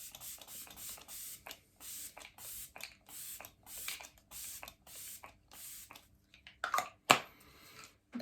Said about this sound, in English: then I'll just finish it off with some setting spray